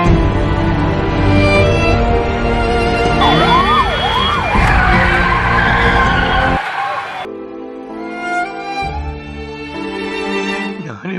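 Ambulance siren called for a critically ill patient in a short drama, heard loud and near with wailing, sweeping tones, mixed with other sounds and voices before cutting to a quieter passage.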